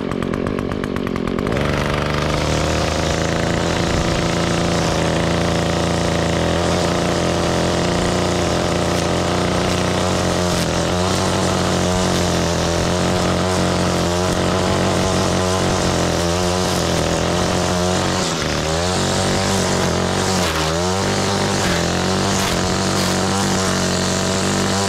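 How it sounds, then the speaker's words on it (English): A two-stroke lawn trimmer engine idles steadily while warming up, a loud, continuous buzzing drone close by that holds for the whole stretch with slight wavering and small revving flutters, no voices over it. "I'll let it warm up for a couple minutes and then we'll start trimming."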